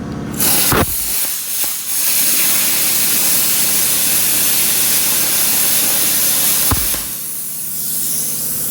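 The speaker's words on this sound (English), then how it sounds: "Now this is 1/8 inch aluminum that's filthy. Say start with cutting these." A plasma cutter hisses loudly and steadily as it cuts through dirty 1/8 inch aluminum, a sharp pop starting each of two long, continuous roaring cuts, with no talking.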